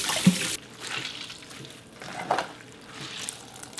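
Soaked, softened miyeok seaweed being rinsed and drained for mussel seaweed soup, with a burst of running water at the start, then softer splashing and dribbling as the seaweed is handled in the water.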